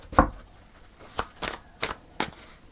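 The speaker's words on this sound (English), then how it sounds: "I shuffle the cards on your bottom of the deck." Tarot cards being shuffled during a reading, heard as a sharp opening riffle and then four shorter, crisp shuffling bursts spaced about a third of a second apart, close and clear with no talking.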